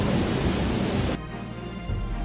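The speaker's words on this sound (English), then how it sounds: "When lightning strikes," Thunder from a lightning strike during a storm, a loud broad crackling roar that cuts off abruptly after about a second into a softer, lower rumble with steady rain-like noise beneath.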